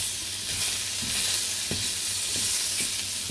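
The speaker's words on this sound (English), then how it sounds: "My zoodles back here are working. We don't want them to get soft. We just want them to cook down a little bit." Zucchini noodles sizzle steadily in a non-stick pan, a close, continuous frying hiss broken by soft scraping stirs every half second or so, with no talking.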